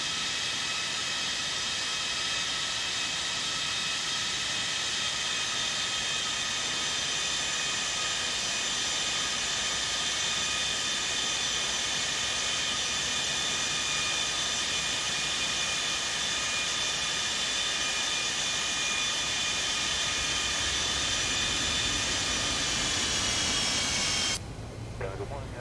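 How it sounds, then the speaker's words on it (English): A simulated Felis Boeing 747-200 jetliner in X-Plane 12 taxis toward the runway, its engines a constant, even whining drone with a high tonal hum that continues unchanged and then stops suddenly near the end. "here is the 74 Classic right here, making its way to the runway"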